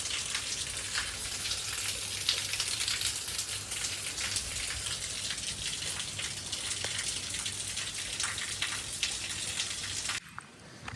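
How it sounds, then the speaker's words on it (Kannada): Heavy rain pours down in a dense, steady hiss of countless drops striking surfaces, loud and constant until a sudden drop-off near the end, with no talking. "ನೋಡ್ರಿ ಗಾಯ, ಎಷ್ಟು ಮಳೆ ಐತಿ"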